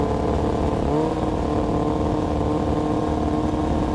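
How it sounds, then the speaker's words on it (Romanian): A motorcycle engine drones loudly and steadily, a continuous rumbling motor sound with a slight rise in pitch near the start. "Cine ar conduce o motocicletă pe vremea asta?"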